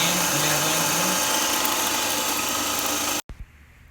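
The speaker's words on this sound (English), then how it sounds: "Now we can see the now the motor is running at 1585 rpm." A DC shunt motor, speed set through its field winding current, runs with a steady whirring hum and whine that stops abruptly near the end, followed by faint clicks and room noise.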